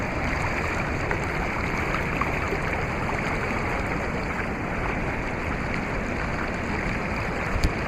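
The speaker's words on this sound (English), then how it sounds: "I like the sound of the water." A stream rushes and burbles steadily nearby, a continuous broadband flow with no talking over it.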